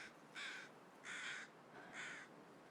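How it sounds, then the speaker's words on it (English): Three distinct crow caws ring out at a steady spacing in a video game scene, fairly faint and slightly distant over a quiet background, with no voices over them. "crows."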